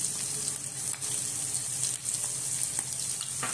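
Lemon juice goes into a hot tomato and red chili chutney in the pan, which sizzles steadily and close by with faint stirring crackles throughout.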